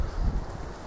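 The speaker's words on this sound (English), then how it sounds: "Just like the wind blowing and stuff." Wind blowing through trees in an eerie, quiet video game world, a steady low rushing whoosh with gentle swells, heard alone without voices.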